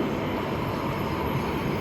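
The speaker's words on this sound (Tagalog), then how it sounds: "May parating na tren." A steady, heavy rumble of a train fills the clip, broadband and constant, as if the train is rolling close by.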